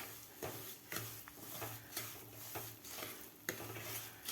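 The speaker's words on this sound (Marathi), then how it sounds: "2 ते 3 मिनिट आपल्याला हे तुपामध्ये भाजून घ्यायचं आहे डाळीचं मिश्रण" Ground mung dal flour roasting in ghee for halwa, stirred in a pan with faint soft scraping strokes at an even rhythm over a quiet low hum, gentle and subdued.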